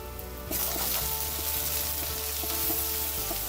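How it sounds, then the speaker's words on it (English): Onions browning in a hot pan for Erode Pallipalayam-style beef biryani: a dense, even sizzle that starts abruptly after a brief quieter moment and then holds steady and close, with faint clinks underneath and no voices. "while that happens, onions are browning"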